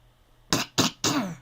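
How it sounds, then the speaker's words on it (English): A person with a cough coughs three times in quick succession, each burst harsh and close, with a bit of throat clearing, alone in a quiet room. "Today's not going to be a long one because I am coughing."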